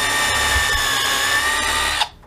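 A power drill bores into a metal stair runner fitting with a close, loud, steady whine for about two seconds, then cuts off abruptly.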